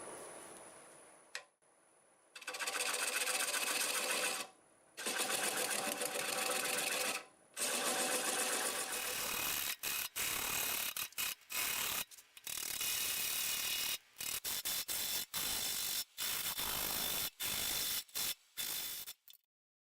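A wood lathe spinning a bowl blank at about 450 RPM while a 1/2 inch bowl gouge cuts, a mechanical rattling whir in long bursts and short choppy passes separated by brief pauses, fairly close with no talking.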